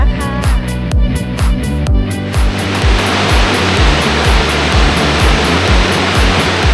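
Muak Lek waterfall in Saraburi, Thailand, roars as a steady, loud rush of falling water with broadband hiss. Rhythmic clicks and low thumps run through the first seconds, with no talk.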